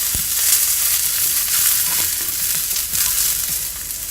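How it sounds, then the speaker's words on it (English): Vegetables for fajitas sizzle hard in a pan over high heat, a loud, steady, close frying hiss that runs the whole time with no voices. "And here we are keeping the pan on high heat, and we are going to cook our vegetables until they get nice charred color."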